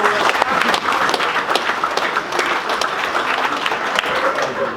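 At a fishing match final held at Barston Lakes, a gathering of anglers gives a steady round of applause, many hands clapping together at moderate loudness without a break.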